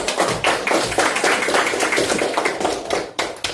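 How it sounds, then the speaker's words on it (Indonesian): Students at a state elementary school classroom clap together, producing a dense, loud patter of many hands that continues for several seconds and then briefly dips before resuming. "Ya, tepuk tangan dulu."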